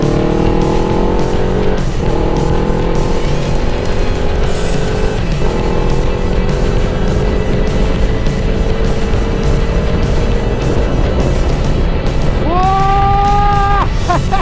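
Yamaha MT-03 motorcycle engine running loud and steady, with sustained engine drone and rising rev tones toward the end, including a sharp upward rev near the close.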